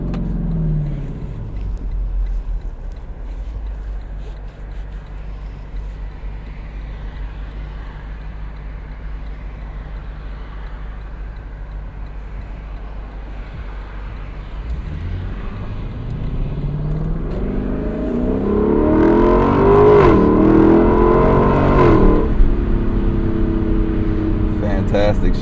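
A 2025 Lexus LC500 convertible's engine drones steadily while driving with the top down, then swells louder as it accelerates and revs near the end, with brief talk over the steady cabin rumble.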